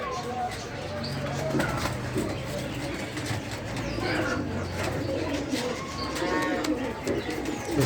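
Fancy pigeons coo softly at a bird market in Punjab, Pakistan, the low cooing partly masked by someone talking and general market bustle.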